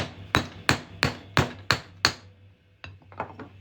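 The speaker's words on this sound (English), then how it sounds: "we're just going to hammer this on through here" A 1952 half dollar coin is hammered into a ring with six evenly spaced, sharp metallic strikes close by, followed by a few lighter, quicker taps.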